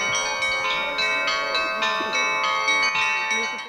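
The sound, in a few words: church bells ringing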